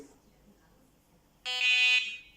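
An electronic fishing bite alarm, the blue one of a three-rod set, gives a short loud tonal beep burst of about half a second, which follows a quiet stretch of faint background.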